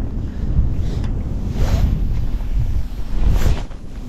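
Wind blows hard across open water while pike fishing, a loud, low, constant rumble with microphone buffeting that swells in gusts, with no voices.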